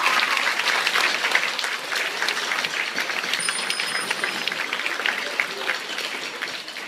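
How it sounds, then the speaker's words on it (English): A full audience claps steadily at a school band concert, a dense, sustained wash of applause that stays even and fairly close throughout with no break. "So can we give them a round of applause?"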